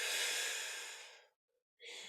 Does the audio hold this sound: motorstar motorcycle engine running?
no